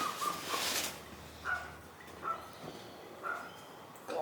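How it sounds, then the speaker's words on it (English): A pet bird chirps indoors in a series of short, moderately faint calls spaced about a second apart, over quiet room tone. "You're probably going to hear Rusty chirping the entire time"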